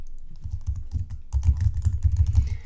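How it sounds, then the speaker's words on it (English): Rapid clicking of keys on a computer keyboard as an email address is typed, close and distinct, with a brief pause before a faster, busier run of keystrokes. "Now I'm gonna go ahead and type in the email address."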